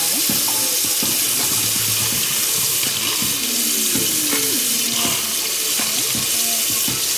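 Water from a tap running and splashing over a waterproof Taotronics TT-SK09 Bluetooth speaker, a steady loud gush with irregular spatters and drips close by, while the speaker keeps playing underneath.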